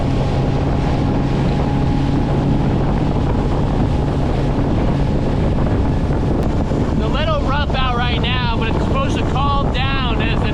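Motorboat engine droning steadily across choppy, sloppy saltwater, loud and close with heavy wind buffeting the microphone and water slapping the hull throughout; a voice joins briefly near the end.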